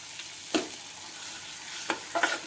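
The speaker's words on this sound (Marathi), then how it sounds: "आपण जो पनीर, शिमला मिरची ते परतून घेतलेलं आहे ते यामध्ये घालून घ्यायचं आहे" Sautéed paneer and capsicum being stirred into a frying masala: a soft background sizzle broken by three quick spatula scrapes, one early and two close together near the end.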